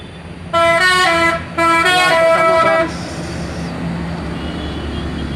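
A Gelar Pratama charter tour bus sounds its horn on a crowded post-holiday return route: two loud, sustained musical blasts separated by a short gap, followed by a steady rumble of engine and traffic.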